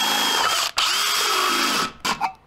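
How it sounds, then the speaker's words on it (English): An electric drill boring holes in a jar lid, a loud, close, high-pitched whine that runs steadily, cuts out briefly, then resumes in two short bursts before stopping. "drill two holes on the lid"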